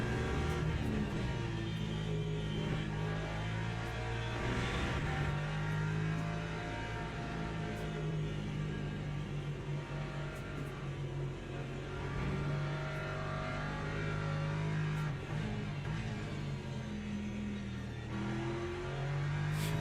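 A Lexus race car's engine runs steadily in the endurance racing sim Le Mans Ultimate, a loud, sustained mid-pitched drone with gear changes and shifting revs under acceleration, and no talk.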